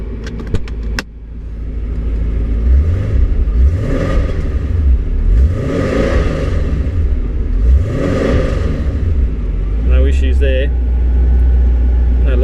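A 1990 Porsche 928 S4 V8 starts with a click and settles into a steady, loud idle. The engine rises and falls several times in smooth revs, and faint mechanical clicks and a buzz follow near the end.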